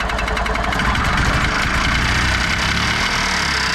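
A worn-out golf cart's gasoline engine, fitted with a new cheap carburetor, runs at a steady, loud idle with a constant rumbling throb and no talk over it.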